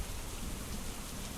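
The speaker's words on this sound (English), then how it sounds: "So here we are in the rain." Rain falling in the Hex of Steel war strategy game, a dense, even hiss of steady downpour with a low rumble beneath, constant and moderately quiet, with no voices.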